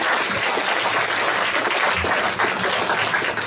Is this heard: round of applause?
yes